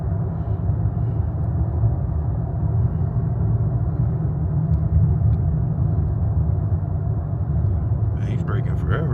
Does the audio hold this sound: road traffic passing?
yes